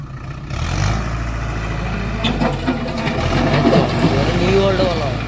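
A Mahindra Arjun four-wheel tractor engine runs with a steady, low rumble throughout, while people talk over it.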